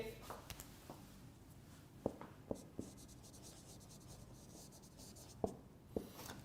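A pen or pencil scratching across paper in short, faint strokes, with a few sharper taps, quiet and fairly close in a room.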